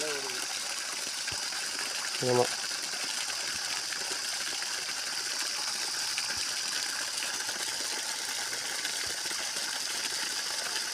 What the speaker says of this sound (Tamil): மோட்டார் வந்து இப்போ பார்த்தீங்கன்னா வெளியில் வந்து டெஸ்டிங் விட்டுருக்குறோம்